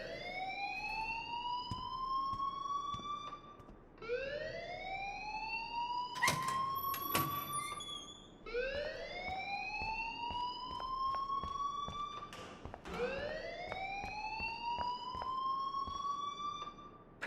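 A loud rising-and-falling alarm rings in the Life Is Strange video game, repeating in long siren-like sweeps with a few sharp clanks between cycles, with no voices.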